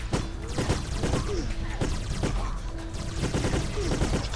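A robot enemy fires blue shots in the shooter game The Kreed: rapid, repeated sharp blasts over dense, noisy game ambience, with a few tonal whines between shots.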